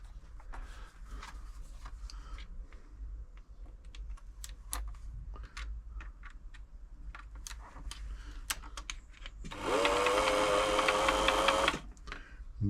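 A Singer 6104 sewing machine runs steadily for about two seconds, a loud rapid whirring hum with fast stitching clatter, preceded by scattered small clicks and ticks from handling the machine up close.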